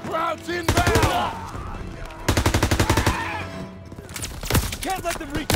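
Gunfire and machine guns in a World War II beach assault video game, with rapid automatic bursts in loud rhythmic volleys separated by short gaps, mixed with shouting in the battle.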